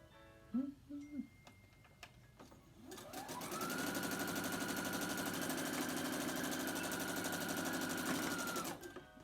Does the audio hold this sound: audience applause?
no